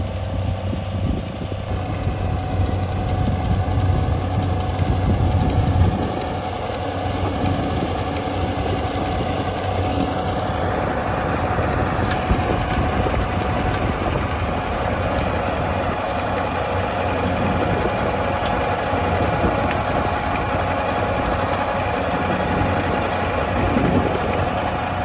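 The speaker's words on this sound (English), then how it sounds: "But it's a good tractor actually." A farm tractor's engine idles close by with a steady, loud mechanical rumble and a faint whining tone running through it, continuous and unchanging with no voices.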